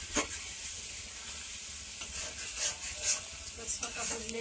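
Meat sautéing in a pan with bay leaves during village home cooking in Bangladesh, a steady close sizzle with occasional stirring scrapes and clinks.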